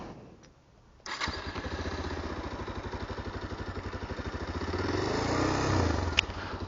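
A 2025 Bajaj Pulsar 220F motorcycle starts up after a short quiet moment, then its exhaust settles into a close, steady, throbbing idle and swells briefly as the throttle is blipped.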